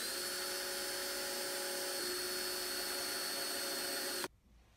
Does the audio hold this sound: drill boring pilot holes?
yes